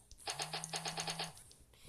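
Suppressed M4A1 rifle in a video game, a short burst of about eight rapid, muffled, clicky shots in even succession, quiet and close, followed by a brief mechanical tail.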